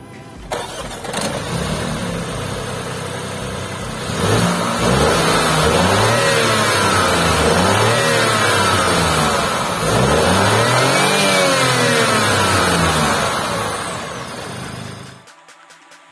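A BMW 218i Gran Coupe with a 1.5-litre turbocharged inline-three starts up with a sharp crank, settles to idle, then revs up and down repeatedly in loud, close swells before dropping back at the end, with no talk.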